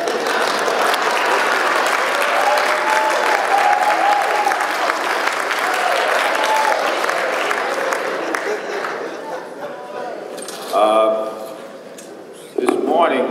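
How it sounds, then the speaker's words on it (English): A breakfast audience at a funeral service awards event applauds warmly, a loud, sustained roar of many hands that fades toward the end. Brief voices cut in near the close. "Thank you for that warm round of applause."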